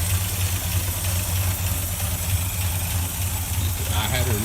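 A 1965 Chevy pickup engine that sat for years idles low and slow with a steady, deep, loud rumble throughout, heard close and alone.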